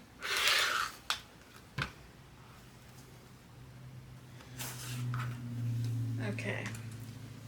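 Scissors cut through quilting fabric in a few quick close snips, followed by softer rustling and handling of the cloth, with a voice speaking in between.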